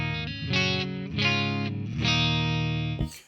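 Distorted electric guitar chords through a Marshall JVM 410H tube amp ring out in three sustained strums with a warm, amp-driven tone, ending in a short muted scrape.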